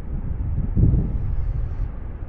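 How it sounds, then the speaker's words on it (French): A strong headwind blows across a volcano summit beside a crater lagoon, a steady low roar buffeting the microphone with a brief stronger gust, with no other sounds. "Contre on a le vent de face là."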